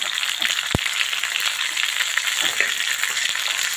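Tomato frying with garlic in mustard oil for a gravy cluster-bean curry, a steady dense sizzle and crackle filling the whole stretch, with one brief knock early on and no talk.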